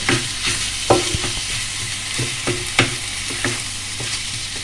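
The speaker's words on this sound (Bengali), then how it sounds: "এবার মাংসটার সাথে ভালো করে এগুলো মিশিয়ে নেব।" A spoon stirs chicken mince with spices in a hot pan to make spring roll filling. Rhythmic scraping strokes and soft thuds ride over a low, continuous sizzle, with no talking.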